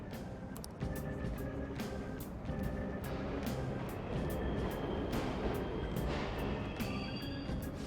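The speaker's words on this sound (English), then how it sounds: "The trains are totally running!" Subway trains running in the Persona 5 Royal video game give off a continuous loud rumbling roar, with sharp clanks and ticks recurring throughout and a faint tonal hum over the din, with no voices.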